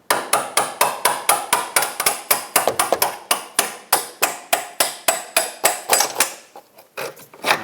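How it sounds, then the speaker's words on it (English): A steel punch driven with a hammer to push a rear upper control arm bolt out of a 2008-2012 Jeep Liberty, around twenty sharp metallic strikes at a steady rhythm, close and loud, with a brief pause near the end. "To finish pushing it out, I'm going to use a punch."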